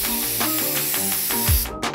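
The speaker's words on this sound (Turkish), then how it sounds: "bu bir püskürtücü sprey" A handheld spray bottle gives a run of short, close hissing bursts, each a quick puff of mist in quick rhythm, heard clearly with no voices over it.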